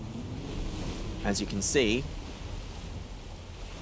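Ocean waves wash and rumble in the Silent Hunter 4 submarine game as a low, steady surf-and-wind wash, moderately loud, with someone speaking briefly over it.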